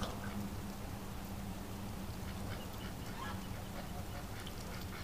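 Muscovy ducks quacking in steady overlapping calls outdoors as they are herded into their pen, a continuous low flock chatter at moderate distance with no clear voice over it.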